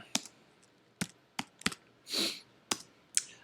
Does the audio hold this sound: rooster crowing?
no